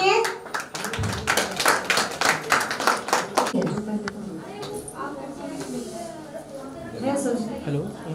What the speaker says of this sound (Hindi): एक बार जोरदार तालियां मन्नत की फैमिली के लिए